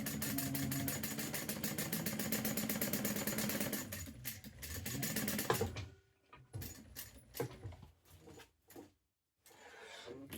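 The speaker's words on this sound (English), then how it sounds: "Now I'm going to stitch down the center again." A sewing machine runs steadily stitching down the center of a fabric bowl pattern, with a dense rapid whir for about five seconds, then stops into scattered clicks, handling noises and brief pauses, close by and without speech.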